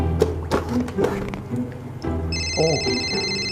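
A telephone ringtone starts partway through and rings steadily under busy background sounds, with a voice talking over it.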